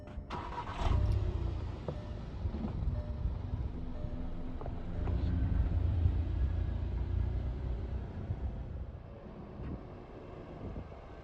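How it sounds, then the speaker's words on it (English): A 2017 Volkswagen GTI rolls past outdoors, its low engine rumble rising and fading steadily over several seconds, heard alone without talk. "the last thing I want to do is get a shot of the car just rolling by"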